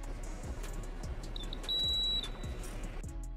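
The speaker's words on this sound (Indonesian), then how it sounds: "terdengar alarm yang masih berbunyi." A high electronic beeping tone from a wristwatch alarm sounds briefly, then holds steady for about half a second, over a low background hum and soft periodic thumps.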